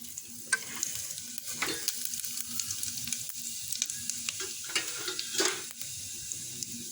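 Cumin seeds crackle and sizzle in hot ghee for green gram pongal, a steady frying hiss with scattered sharp pops and a few louder bursts of spattering, close and moderately quiet with no talking.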